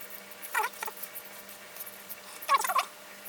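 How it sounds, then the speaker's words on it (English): Birds squabble outside, giving two brief bursts of high, chattering squeaks and chirps, faint and distant against a quiet indoor hum. "Seems there's some birds outside having a fight anyway."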